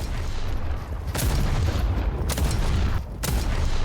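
Gunfire erupts in Valve's hero shooter Deadlock: three sharp shots crack out about a second apart over a dense, rumbling battle din. No one speaks.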